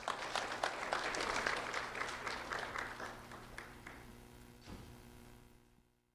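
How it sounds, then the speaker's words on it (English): An audience at a sheriff's office award ceremony honoring a fourth-grade student gives a round of applause, fairly faint and distant, building briefly then tapering off into a few scattered claps and quiet. "a round of applause for Brandon Hampton, please"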